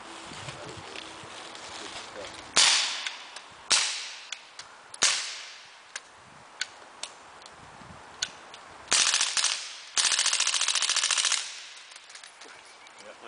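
An MP5 submachine gun fires outdoors in sharp, loud bursts and single shots, several cracking reports with ringing decay spread over the span, the longest bursts near the end, with faint talk in between.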